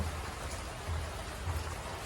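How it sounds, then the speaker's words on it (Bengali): Steady rain pours down at night outside a small village hut, a dense, even hiss with soft low rumbles and no voices. "তো বাহিরে অনেক বৃষ্টি হইতেছে আজকে।"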